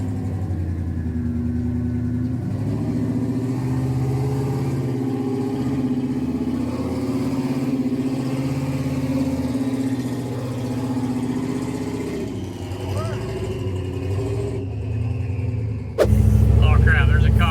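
A mini wrecker tow truck engine runs and revs steadily while climbing a trail chute, a close, loud, droning mid-pitched hum that wavers slightly, with a sudden louder rough burst near the end.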